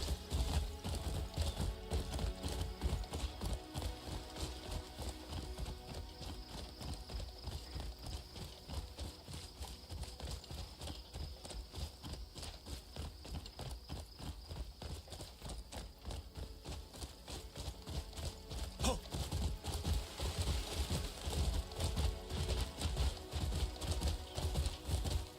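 Horse hooves clip-clop along a road in the video game Crimson Desert, a steady, fast rhythmic trot that carries on through the whole stretch at moderate volume with no voices over it.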